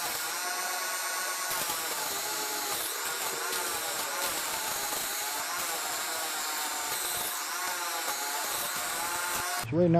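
A lapidary faceting machine grinds the girdle of a large roughed-in quartz stone, giving off a steady, close, high-pitched whirring whine that holds evenly throughout with no talking.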